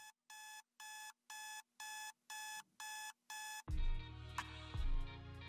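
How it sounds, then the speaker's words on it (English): An electronic alarm clock beeps in eight evenly spaced bursts within a song in the Madden NFL 22 video game, then a loud thumping beat of music takes over. "why is there an alarm clock playing?"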